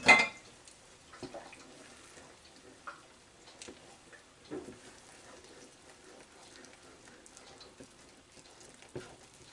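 Meatballs for stroganoff being stirred in a frying pan: a faint sizzle runs throughout, broken by several sharp utensil clinks and scrapes against the pan at irregular intervals, with no talking.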